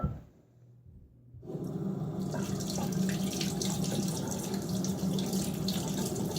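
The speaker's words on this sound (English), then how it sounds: "Takes a second to rinse from my fingers" Tap water running steadily into a sink as shaving lather is rinsed off fingers, a close, continuous splashing after a brief quiet start, with no talking.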